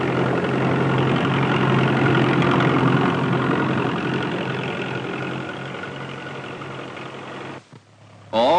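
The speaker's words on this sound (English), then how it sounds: "great tractor-drawn drills sow the seed 26 rows at a time" A tractor engine drawing seed drills that sow 26 rows at a time drones loud and steady, easing slightly before a short break and a return near the end.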